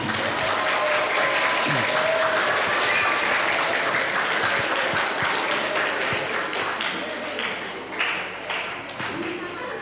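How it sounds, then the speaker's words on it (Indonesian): An audience at a school celebration of the Prophet's birthday applauds warmly for a teacher, with dense, sustained clapping from many hands that gradually thins toward the end, while a voice is faintly present underneath. "Tepuk tangan untuk Guru Ali Hamdi"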